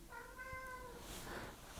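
A cat meows at a door, one clear mewing cry followed by a second softer, breathier call, close by with no voices.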